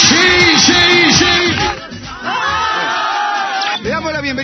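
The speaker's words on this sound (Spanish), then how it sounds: "Un fuerte aplauso para Sheila Rojas." A football stadium crowd at a Peruvian league match roars and chants rhythmically in loud, massed voices, cheering in repeated bursts with an announcer's voice over the noise.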